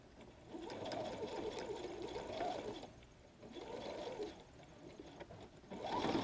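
A sewing machine stitches along a chalk line on a messenger bag in two sustained runs with a pause between them, and a third run starts at the end, all at moderate, fairly close volume.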